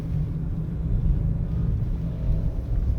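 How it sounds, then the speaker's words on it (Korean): A steady, low rumbling synthetic engine-like drone from a plug-in hybrid BMW M5 driving on electric power, continuous and fairly loud with no voices. "이 가상 사운드가요, 뭔가 그 내연기관 특유의 그르렁거림이 느껴져요"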